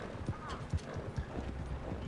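Horse hooves clip-clopping at a steady walking rhythm in the video game Red Dead Redemption 2, fairly faint under ambient game sound.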